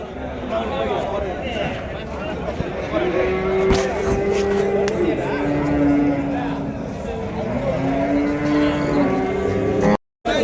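A calf moos repeatedly in long, drawn-out lows at a busy cattle market in Vaniyambadi, with crowd chatter and vehicle noise in the background.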